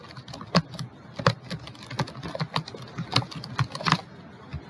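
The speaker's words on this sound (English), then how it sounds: "I'm going to type anything." Someone types on a computer keyboard at close range, with quick irregular key clicks and a few louder taps.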